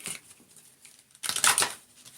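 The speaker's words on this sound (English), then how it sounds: "Give it a little shuffle." A deck of Moonology oracle cards being shuffled by hand, a soft papery riffle that swells into a louder burst of flicking cards near the end.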